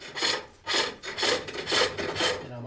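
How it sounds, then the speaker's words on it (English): Sharp hook tool cutting into a wooden bowl on a spring pole lathe, giving rhythmic, close rasping strokes about every half second, each rising and fading with the pole's back-and-forth motion. "So I'm going to plunge this in a little deeper."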